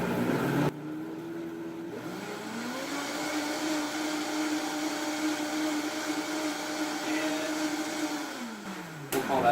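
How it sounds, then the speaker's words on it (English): A Vitamix blender whirs through a batch of hot bulletproof coffee, spinning up, holding a loud steady motor roar for several seconds, then winding down and cutting off. "This is a Vitamix blender, and I'm just going to give it a quick little blend here."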